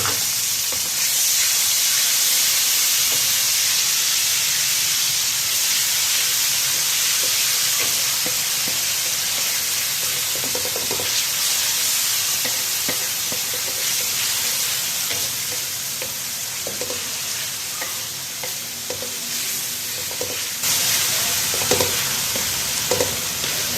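Tomato paste from two tomatoes stirred into browned onions in a hot pan for aloo gobhi matar, a steady close sizzle and frying hiss with soft scraping stirs throughout, no talk.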